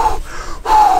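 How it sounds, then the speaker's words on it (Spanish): A cyclist's deliberately exaggerated breathing, used for motivation during hard effort: two loud, forceful breaths, a short gasping intake followed by a longer, heavier breath, close to the listener. "exagerar la respiración en plan motivación también"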